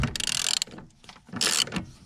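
A ratchet undoing the upper shock nut on a Mini R50/R53, two short bursts of loud rapid clicking near the microphone, separated by a quieter pause with faint handling noise.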